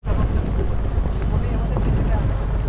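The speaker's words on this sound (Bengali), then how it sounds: "এবং মুষলধারে বৃষ্টি শুরু হয়ে গেছে এখন, বিশাল বৃষ্টি।" Heavy rain pounds a small boat on the Sundarbans waterways, a loud, dense, unbroken hiss with wind buffeting the microphone and a deep rumble underneath, steady for several seconds.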